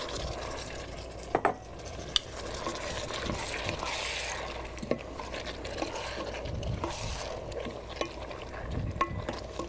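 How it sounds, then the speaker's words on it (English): A whole can of pears with their juice tipped into a sautéing pan on an induction cooktop, a steady wet sizzle and stirring with a few sharp metallic clinks, no talk. "I'm going to throw them in right here, the whole can, juice and all."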